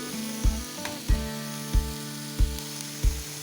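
Capsicum and other vegetables are stir-fried in a pan for momo stuffing. A soft sizzle runs beneath five regular knocks of a spoon or spatula against the pan, about every 0.65 seconds, over low background music.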